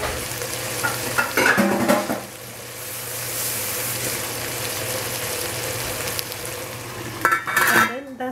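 Beef and onion cooking in oil in a pot, a continuous frying hiss with clattering stirs and scrapes of a utensil against the pot at the start and near the end.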